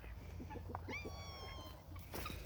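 A cat gives a single drawn-out meow outdoors near a bird coop, clear and fairly close over low background hum.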